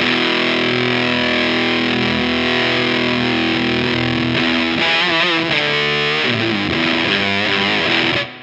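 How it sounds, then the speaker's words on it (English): A loud, fuzzy electric guitar through a Way Huge Stone Burner Sub Atomic Fuzz pedal drones with a thick, buzzing low end, then the tone shifts and warbles as heavy sub-octave fuzz swells in. "you can already hear we've got some of that sub octave going"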